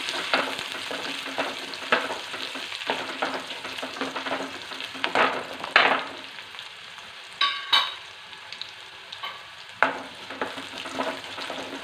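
Moist curry leaves sauté in hot oil in a pan, a continuous crackling sizzle with intermittent stirring scrapes and a few spoon knocks, close and moderately loud.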